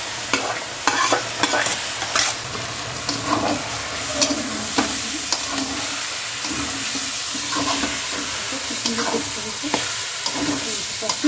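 Dal being stirred and fried in a pan, lentils half-boiled: a loud, continuous sizzle with frequent scraping strokes of the spoon against the pan, close up and with no talk.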